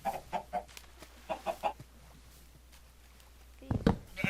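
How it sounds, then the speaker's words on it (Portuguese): Chickens in the Minecraft video game give short clucks in a quick burst of three, then a second burst, followed by a quiet pause and a louder cluster of clucking at the end, all close and clear. "Galinha, você já pode sair se você quiser."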